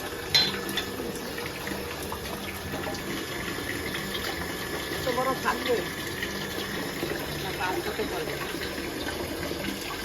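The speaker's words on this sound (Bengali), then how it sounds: "মা এখন এদিকে মাংস ধুচ্ছে" A kitchen tap runs steadily while meat is washed in a home kitchen, a continuous splashing water stream with clinks and handling noises, and voices talking over it.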